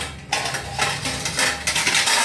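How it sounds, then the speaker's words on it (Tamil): A metal lid clatters onto a cooking pot of simmering paruppu urundai kuzhambu, a sharp clink followed by ringing, rattling metallic scrapes over a low kitchen hum. "கொதிக்கிற வரைக்கும் நம்ம மூடி வச்சுருவோம்."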